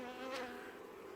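Honeybees buzzing around a hive in November, a soft close drone of wings with one brief swelling pass of a bee near the ear.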